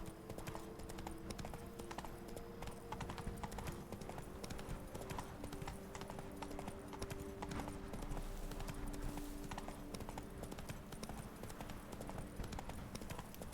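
Roach, Geralt's horse in The Witcher 3, gallops along a path in Toussaint, hooves drumming in a steady, continuous rhythm over faint game ambience, quiet throughout.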